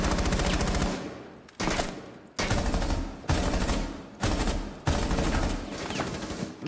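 Loud bursts of automatic gunfire from Rainbow Six Siege, several rapid volleys separated by short gaps, close and dominant with no talking.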